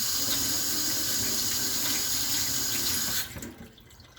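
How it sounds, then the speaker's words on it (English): Hands are rinsed under a running kitchen faucet, a steady close rush of water that cuts off near the end. "Let me rinse my hands off."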